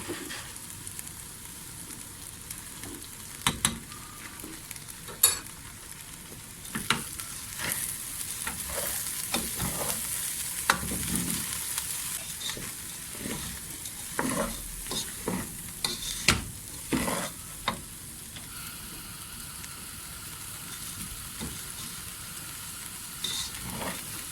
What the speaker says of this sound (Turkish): Gördüğünüz gibi karıştırıyoruz.